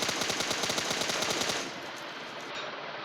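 Automatic gunfire in a PUBG-style battle royale shooter game, a fast burst of loud evenly spaced shots lasting about a second and a half, followed by a fading, rumbling tail.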